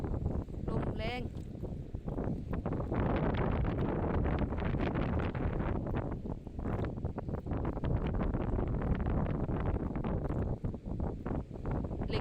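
Strong wind blows at the shore during low tide while clams are gathered, a loud, constant blustery roar buffeting the microphone, with a person talking throughout.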